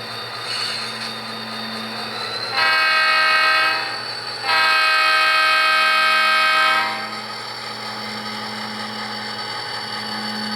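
Model train locomotive rolling along the layout and over a turnout, a steady mechanical hum with a strong tonal horn-like blast sounding twice in the middle, fairly close and loud.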